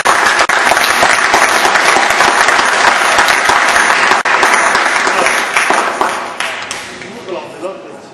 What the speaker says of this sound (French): Si vous pouvez encore applaudir.